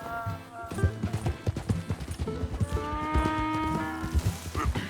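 Horse hooves clip-clop at a steady walking rhythm in Red Dead Redemption 2, close and clear, mixed with background music tones and occasional animal sounds.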